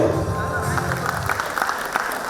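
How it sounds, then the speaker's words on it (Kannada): Applause at an award ceremony for a Karnataka Press Club education service honour, a crowd clapping steadily for a couple of seconds while a voice speaks over the start. "ಚಪ್ಪಾಳೆ"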